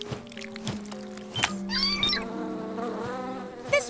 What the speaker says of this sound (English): flapping our wings is how we make thicker honey. It's a bee thing.